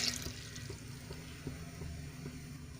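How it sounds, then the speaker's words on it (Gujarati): Water poured into a pressure cooker over potatoes until they are covered, a steady rushing pour that is loudest at the start and then settles into an even, moderate splash for about three seconds. "ડૂબી જાય ત્યાં સુધી આપણે એમાં પાણી ઉમેરીશું"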